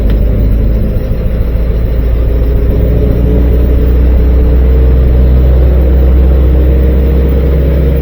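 A 1943 Army Jeep engine idles just after start-up, giving a loud, steady, close rumble that holds evenly throughout with no talking.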